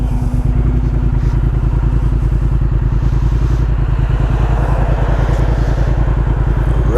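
A 2020 Triumph Speed Twin motorcycle fitted with an aftermarket Vance and Hines exhaust runs steadily for seven seconds, a loud, close, rapid-pulsing twin-cylinder burble with a deep throaty low end and no talk over it.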